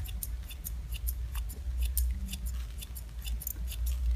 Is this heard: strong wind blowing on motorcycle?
no